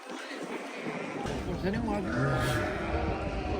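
Several lambs bleat amid a noisy outdoor crowd at a livestock market in Şarkışla, Turkey, their wavering calls overlapping with people talking in the background.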